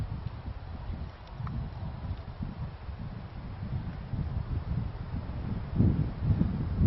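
Steady wind gusting across a snowy mountain ridge in winter, a constant low rushing buffet on the microphone that swells louder near the end, with no voices.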